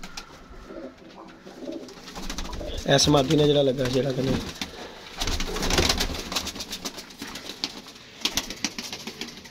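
Pigeons of the Mian Sahib breed, a male and female, give a short burst of soft throaty cooing close by, with someone talking over it before and after.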